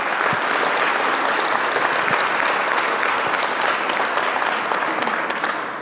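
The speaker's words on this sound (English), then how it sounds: "Please give our co-hosts a round of applause." Audience at a mayoral candidate forum on low-income housing and homelessness gives a steady, full round of applause for the co-hosts, dense and even throughout, tapering slightly at the end.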